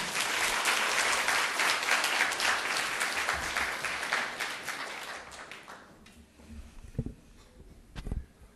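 Audience applause at the final round of a university debate contest, welcoming the head judge to the stage: sustained dense clapping that fades after about six seconds, leaving a few isolated knocks.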